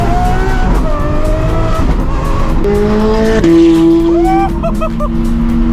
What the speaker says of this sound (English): The Lambo and the Ferrari driving on the highway together.